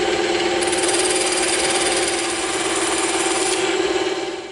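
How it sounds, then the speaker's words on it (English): Bandsaw slicing through an EVA foam kukri handle, a loud, steady high-pitched whine with a buzzing edge that runs close and unbroken for a few seconds before easing off at the end. "we're going to cut this out on the bandsaw"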